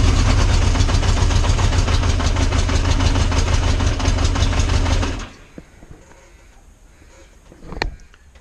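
A motorcycle fitted with a Motogadget M-Unit idles with a steady, loud, close rumble for about five seconds, then cuts out abruptly, leaving near quiet broken by a small click and a short faint rise near the end.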